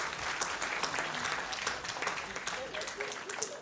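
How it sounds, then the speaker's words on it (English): Audience applause at an HR awards ceremony, a dense, steady wash of many hands clapping close by for the full length, with voices mixed in underneath. "Please give a big round of applause."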